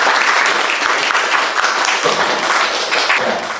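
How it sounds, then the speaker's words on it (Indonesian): Students in a university class clap for a classmate, a loud, close burst of steady applause running throughout with no talk on top. "tepuk tangan buat Desti."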